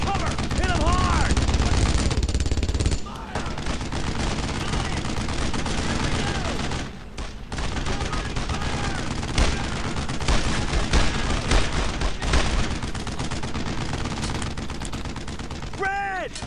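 Sustained WWII gunfire from Brothers In Arms: Road To Hill 30, with dense rifle and machine gun bursts crackling continuously at close range, brief lulls between volleys, and shouted squad voices mixed under the shooting.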